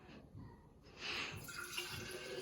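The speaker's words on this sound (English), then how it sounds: "Ooh, nice pour." Liquid pours steadily into a container, a soft trickling and splashing that swells partway through, heard close and alone.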